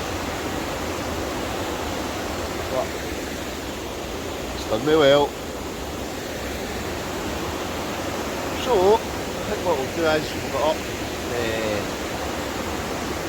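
Heavy rain pours in a steady, dense hiss throughout at a wild camp in Scotland, while someone speaks briefly over it.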